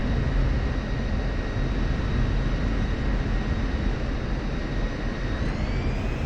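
A steady, loud roar from an F-16 Viper jet engine pushed to full throttle, with a broad rumbling wash and thin whining tones that rise slightly near the end.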